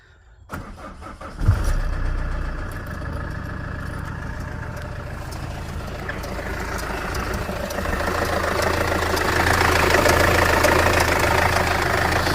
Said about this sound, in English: Let's start it up, see what noise it makes.